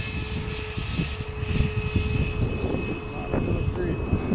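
A Flitetest Viggen RC jet model with a 90 mm ducted fan flies on its maiden flight, a steady whooshing whine with a high tone, moderately near, while people talk quietly.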